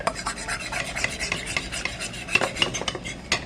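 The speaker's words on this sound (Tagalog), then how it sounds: "Mix it up." Instant noodle ingredients are mixed in a bowl with a utensil, producing quick, close scraping and rubbing strokes in an uneven rapid rhythm, with no voices over it.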